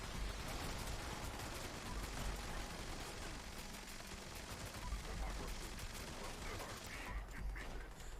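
In Fallout 76, gunfire is aimed at the player during a Vault 94 raid. Rapid bursts of shots rattle continuously at a fairly low level amid other busy game sounds.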